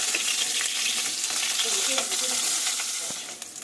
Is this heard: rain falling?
no